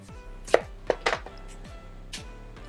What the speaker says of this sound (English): One trick I like to use is pulling it apart instead of using a knife to cut the florets.